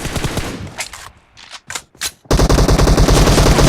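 Gunfire in PUBG Mobile team deathmatch: loud, close automatic bursts, a run of rapid shots, a brief lull with a few single cracks, then a sustained dense stream of fire.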